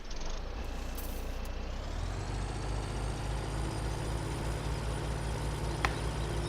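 A black truck in the video game Farming Simulator 17 runs with a steady low engine drone that rises slightly in pitch, with a short hiss near the start and a brief click later, with no voices.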